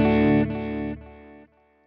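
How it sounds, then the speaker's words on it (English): A distorted guitar chord is played through the tape echo effect of a Flamma FX20 multi-effects unit and repeats in several stepped, fading echoes, each repeat softer and duller than the last. "All right, tape echo."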